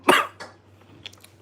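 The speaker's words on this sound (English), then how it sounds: "You got me coughing." One harsh, close cough bursts out, followed by a softer second cough and then quiet breathy throat sounds trailing off.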